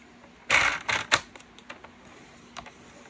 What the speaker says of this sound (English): I'm going to score it on the 4